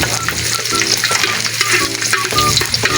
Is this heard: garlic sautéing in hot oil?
yes